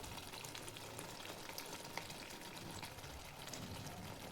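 Spices for masala bhindi fry in hot oil, giving a steady, soft, close sizzle with fine crackles throughout and no talk.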